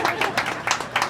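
Audience applause at the Iwo Jima flag raising parade in Sacaton, Arizona, a steady wash of clapping with rhythmic swells, moderately loud and close.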